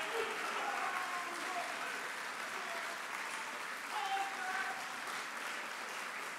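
Applause from an audience at a Memorial Day gathering at the Nixon Library, a steady wash of clapping held at an even level for the whole stretch, with no pause.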